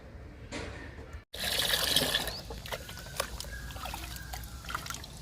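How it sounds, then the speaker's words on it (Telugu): Liquid fertilizer pours onto a potted ajwain plant with a close splashing trickle, briefly stopping, then continuing as a softer, uneven dribble with small drips and rustles. "వామ్ మొక్కకి లిక్విడ్ ఇస్తున్నానండి"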